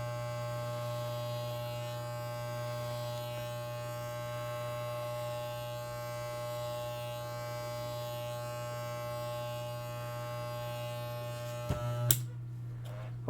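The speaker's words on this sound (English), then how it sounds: "Get a nice shave over the seam. Gotta be nice and gentle." An electric shaver trims fur over the seam of a fursuit, a steady close buzzing hum that runs without a break. A short rustle and clunk come near the end.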